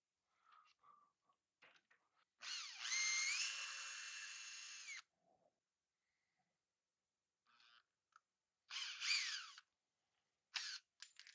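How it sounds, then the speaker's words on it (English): A power drill with a bit bores a hole into Tasmanian oak for a round tray. A steady whining run of a few seconds is followed by several shorter bursts, with quiet gaps between them, heard close up. "So if I drill it with this."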